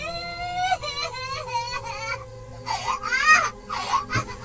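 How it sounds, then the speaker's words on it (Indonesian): A child sobs and wails in a horror story setting, a high trembling cry in several rising, breaking bursts over about four seconds, close and fairly loud, with a low steady drone underneath. "ia dikejutkan sebuah suara tangisan"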